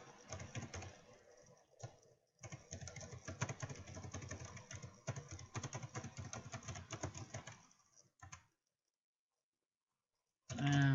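Someone types an email address on a computer keyboard, a dense run of close, rapid key clicks lasting most of the stretch before a short pause and a final burst.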